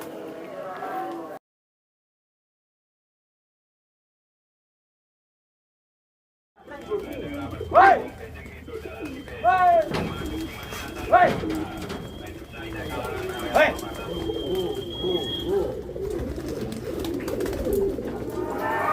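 Pigeons coo at a tomprang pigeon racing contest held for Independence Day, with several soft, repeated coos and bird calls over steady crowd murmur, following a long silent gap.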